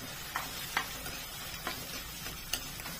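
Finely chopped onions frying in oil in a kadhai for chicken keema give a steady, close sizzle, with a few sharp stirring clicks of a spoon against the pan and no talking.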